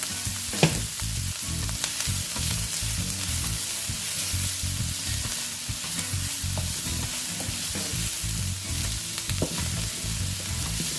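Onion sizzles steadily in oil while a spoon stirs through it in frequent scraping strokes, close and continuous, with no one talking.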